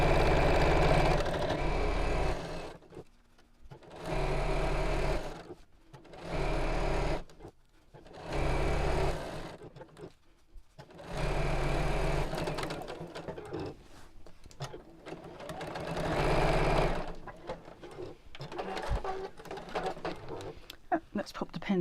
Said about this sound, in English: reverse back a few stitches, and then sew all the way around